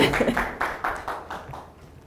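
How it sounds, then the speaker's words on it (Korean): Scattered applause at a Gyeonggi-do peace talk session, a handful of uneven claps from a small audience, louder at first and then trailing off into quieter, sparser patting. "우리 큰 박수 부탁드립니다"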